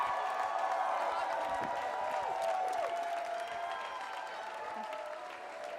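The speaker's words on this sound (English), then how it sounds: "Give them a big round of applause." Large crowd applauding and cheering at a student dance marathon fundraiser, a dense sustained wash of clapping with whoops that stays loud throughout before easing slightly toward the end.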